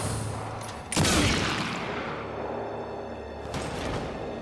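Video game gunfire: a heavy blast with a booming, whooshing tail, then another sharper report a few seconds later, loud and close, with no one talking.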